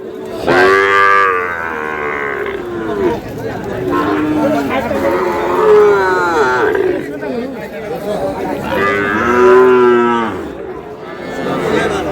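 Sahiwal bulls moo loudly and repeatedly at a busy cattle market in Dinajpur, several long lowing calls rising over steady crowd chatter and bargaining voices throughout.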